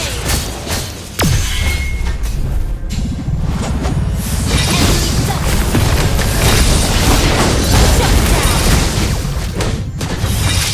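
A turret is destroyed in the Mobile Legends mobile game, giving a loud, dense burst of booming explosion and crashing effects that roars on steadily for several seconds with no talking.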